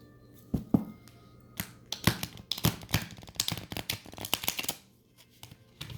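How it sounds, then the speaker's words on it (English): Tarot cards being shuffled up close in quick riffling bursts, crisp flicks and snaps that build and then fade off. "One more shuffle."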